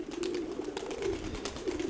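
Pigeons coo close by, a low continuous throaty warble with soft bird movements over it, including a steel-grey Mura hen.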